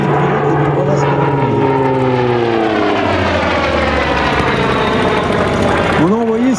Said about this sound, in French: On a envoyé ces énormes monstres monomoteurs surnommés dérisoirement les SPAD